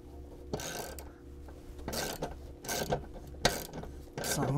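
A tool ratchets as bolts are tightened down against spacers on a full-motion universal TV wall mount, several short clicking bursts separated by pauses, close and moderately loud over a low steady hum.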